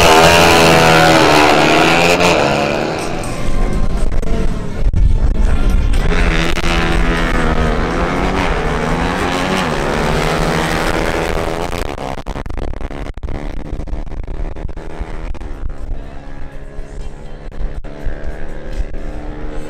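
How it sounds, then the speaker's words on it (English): Two Pulsar NS200 motorcycles roar side by side in a drag race duel, loud engines rising in pitch through quick gear changes before fading away into distant, fluttering exhaust noise. "Now we have a duel between two Pulsar NS200s, ridden by Brian Padilla and Andres Milan."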